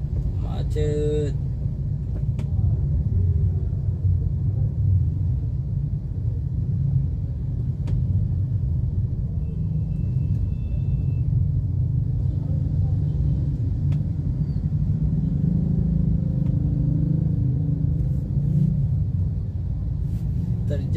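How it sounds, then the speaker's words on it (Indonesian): Heavy traffic jam of cars and motorbikes on the road toward Beli bridge in Bau-Bau, a constant dense low engine rumble with wind buffeting the microphone and a person talking. "Terjadi penumpukan kendaraan."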